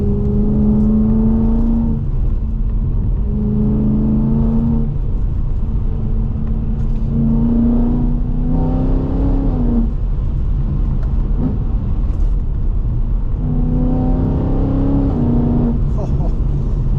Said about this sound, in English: It's a high revving V8, which is so good.